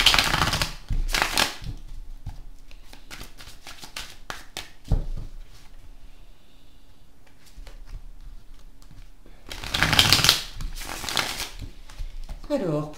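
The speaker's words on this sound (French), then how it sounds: "je vais mélanger déjà ces cartes-là" Tarot cards are shuffled in two brisk, riffling bursts near the start and again toward the end, with scattered soft taps and card clicks between them in an otherwise quiet room.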